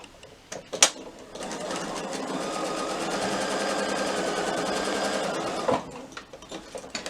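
A sewing machine stitches along the edge of a small batik fabric wallet, starting with a few handling clicks, then running steadily for about five seconds before stopping with a soft thump.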